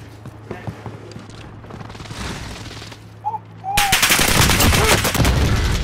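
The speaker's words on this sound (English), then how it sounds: "Enemy precision airstrike." Gunfire and a sudden heavy barrage from an enemy precision airstrike in Call of Duty: Modern Warfare, sporadic shots giving way to a loud, dense burst of blasts, with game voices and player chatter over it.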